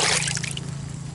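Water is poured around the base of a newly planted rose bush in a garden, a short, close trickling splash onto soil.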